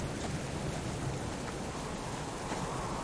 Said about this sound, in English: This is quite a long-lasting storm.